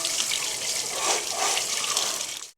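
Water gushing from a tap into a sink as hands are washed, a loud, steady rushing splash that cuts off abruptly at the end, heard up close without speech.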